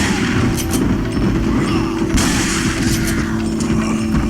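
Shotgun fire in Resident Evil 4 Separate Ways, heard as several heavy booming reports spaced irregularly over a constant loud din of game combat noise, no voices on top.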